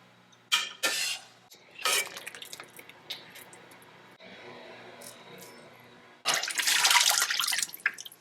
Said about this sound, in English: Now I'm going to strain it out and put it in some cold water to cool.